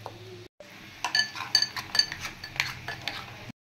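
A spoon clinks and scrapes against a bowl while mixing lemon-marinated fish, producing close, irregular metallic taps in quick clusters, with a short silent gap near the start.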